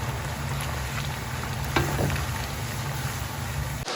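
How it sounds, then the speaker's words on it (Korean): A soy sauce broth for Korean japchae bubbles and sizzles steadily in a pan over medium heat, with occasional soft scraping from stirring, close and continuous without speech. "너무 세지 않게 중강중불로 해서 한 번씩 늘어붙지 않게 저어주시면서 계속 졸여주세요."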